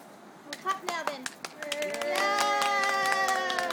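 A small group claps for a fire poi twirling performance: a few scattered claps build into steadier applause, mixed with excited cheering and children's voices nearby.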